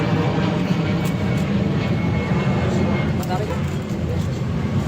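An airplane drones overhead outdoors, a steady broad engine rumble that continues throughout while people talk nearby.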